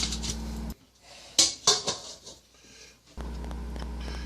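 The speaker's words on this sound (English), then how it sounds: "It's time to stir it up a little bit." A pot roast with vegetables and celery cooking over tealights is stirred, giving a few close, brief scrapes and clinks of a utensil against the pot, with a steady hum before and after.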